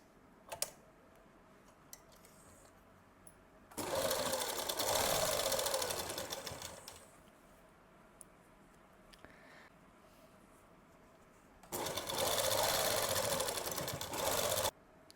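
A sewing machine stitches a palazzo in two loud bursts of steady whirring, each lasting about three seconds, with quiet pauses between them.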